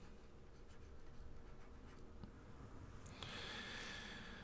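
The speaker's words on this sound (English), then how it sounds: "Let me write in here the law." Marker or chalk writing on a board during a lesson on Leviticus, a series of faint scratchy strokes and taps over a low room hiss, growing slightly brighter and steadier near the end.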